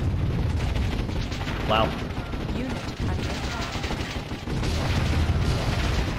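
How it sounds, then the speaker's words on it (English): Mortar rounds and explosions rumble through a Warzone 2100 battle, a dense, continuous barrage of booms and gunfire filling the scene, with a brief exclaimed word from a player partway through. "I'm glad I got these mortars, they're helping out a lot"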